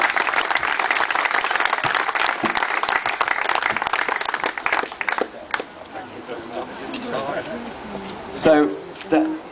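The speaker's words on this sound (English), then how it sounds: "And a big round of applause for Fred Perry." A crowd at an outdoor plaque unveiling for Fred Perry claps in a dense burst that thins out after about five seconds, giving way to scattered claps and people talking.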